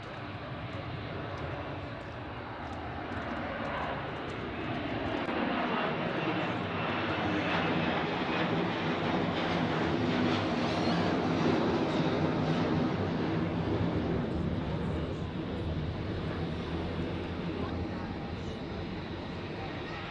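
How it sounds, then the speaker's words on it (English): Narrow-body airliner rotating and climbing out steeply from Zurich airport, heard from an observation deck as a broad, distant engine roar that swells and lingers over soft background talk. "Pretty much as always with the narrow bodies, they rotate early and climb out steeply."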